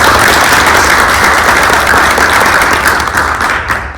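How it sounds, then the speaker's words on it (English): Sustained round of applause from the people at a school board of education meeting, dense steady clapping filling the room for about four seconds before beginning to thin out at the end. "let's give her a nice round of"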